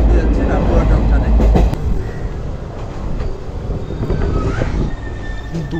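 A train approaching Rampurhat junction rumbles and clatters, with wheel squeal and a heavy low roll that eases after the first couple of seconds, while voices talk nearby.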